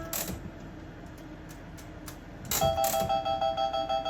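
Electronic chimes and ringing tones play from an IGT S+ slot machine's hand pay sound test, starting soft then turning into a louder repeating bell-like jingle with no talking.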